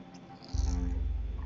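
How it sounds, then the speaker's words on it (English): A cat in the video game Risen gives a short meow, then a loud low rhythmic rumbling purr-like sound carries on close by to the end. "Он нявкает, как Касперский. Страшными скрипучими звуками."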